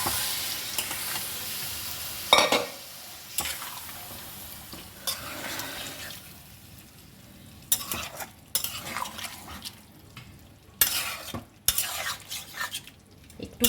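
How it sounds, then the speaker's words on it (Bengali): Boiled jackfruit and potatoes being stirred into fried spice masala in a pan for Bengali-style prawn curry, with steady sizzling and repeated scraping spoon strokes against the pan, close and alone. "এবারে আমি সেদ্ধ করে রাখা এঁচোড় আর আলু দিয়ে দিলাম।"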